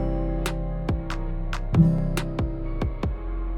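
Guitar chord strummed repeatedly, about ten sharp strokes in an uneven rhythm, each ringing into the next, close and clear with no voice.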